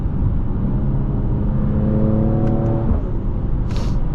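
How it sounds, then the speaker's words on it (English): Mercedes-AMG GLE 53 engine pulling steadily through gear shifts, its tone rising in stepped harmonics and dropping at each change, heard from inside the cabin as a continuous close drone with no talking. "Very nice sound on the change of shifts as well."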